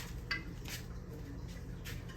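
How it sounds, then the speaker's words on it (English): A pot moved aside on a stove during preparation of cheesy au gratin potatoes, a few light metallic clanks and scrapes close by over a low background hum. "Let's move this pot out the way."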